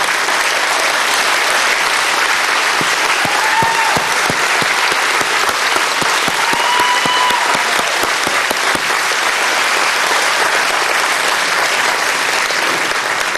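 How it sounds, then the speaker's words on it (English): Loud, sustained applause from a large audience at the Tennessee Aviation Hall of Fame ceremony honors standing veterans and service members, a dense continuous roar of clapping with a few faint whistles. "A round of applause."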